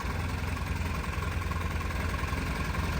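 A fuel-injected 1972 Honda N600 engine idles close by in a steady, slightly rough, even drone with no talking over it.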